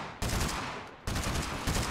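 Gunfire in the TABS battle royale game: two sustained bursts of rapid shots, loud and close, separated by a brief gap.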